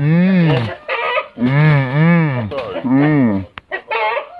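A Sweater gamefowl rooster in a fight with a white rooster, several loud, close, drawn-out crowing calls and clucks in quick succession, ending with a short sharp knock.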